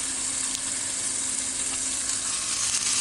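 Brown rice for vegan fried rice is spooned into a hot pan, giving a steady, close, even sizzle with no talking.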